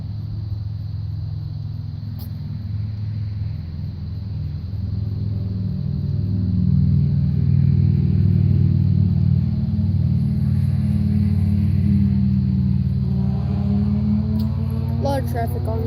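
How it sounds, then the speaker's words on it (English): Road traffic rumbles past steadily, low and broad, swelling as a vehicle draws nearer and then easing, with a constant background hum throughout. "A lot of traffic on this road."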